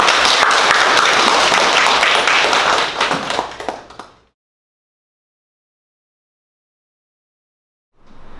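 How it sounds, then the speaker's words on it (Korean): A staff audience at a 2021 all-employee eco workshop for Sungsimdang bakery applauds the innovation team: dense, loud clapping for about four seconds that thins out into silence, with faint sound returning at the very end. "우리 혁신팀에게 박수 부탁드립니다."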